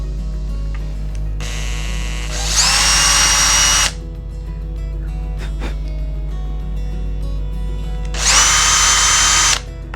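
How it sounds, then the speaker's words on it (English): A power drill bores through a lacquered Telecaster guitar body in two loud bursts, each revving up to a high whine before stopping, with a steady low hum and quieter motor noise between them. "So now hopefully when I drill into it, I'll be missing out all that lacquer"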